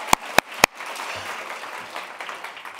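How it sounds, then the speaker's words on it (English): Three loud, close hand claps ring out, then softer, more distant audience applause follows for a departing guest at a student civic challenge event, thin and steady under a low room hum. "let's give him a clap"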